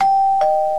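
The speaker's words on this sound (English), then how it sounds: "It keeps ringing the doorbell! It won't stop!" Doorbell chime in a Minecraft game rings as a clear electronic tone that repeats, the second tone starting just under halfway through and holding steady to the end.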